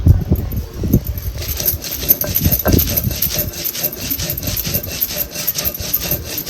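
Green chillies and fresh coriander ground together for kharda bombil, giving a continuous scraping, rasping grind with coarse rubbing strokes, loud and close, with no talk over it.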